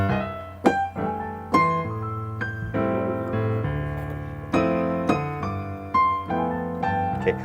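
Piano playing a cocktail jazz exercise of mostly eighth notes, with bright chords and running lines struck one after another in a steady, close, clear rhythm, no talking.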